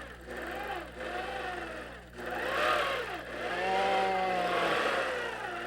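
A sewing machine runs in bursts while quilting a topless triangles pattern, its motor whirring and humming up and down in speed with a steady low background hum, close by.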